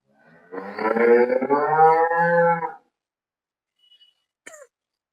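A dairy cow on a farm lets out one long, loud, close moo lasting about two seconds, followed by quiet and a brief faint clink.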